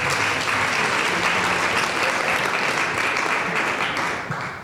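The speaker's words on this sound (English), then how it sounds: "Big applause for that" An audience at a church service claps in a dense, sustained round of applause that holds steady and then begins to taper near the end, with no voices over it.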